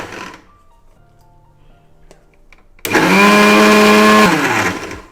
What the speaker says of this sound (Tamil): நான் இப்போ வந்து ஜாரில் தான் அரைக்கிறேங்க